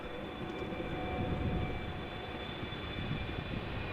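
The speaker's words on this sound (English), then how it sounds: "Air Canada flight 808 is about to touch down." Air Canada airliner arriving from Toronto and touching down at Amsterdam Schiphol Airport, heard as a steady, fairly distant engine roar with low rumble, faint and continuous with no talking.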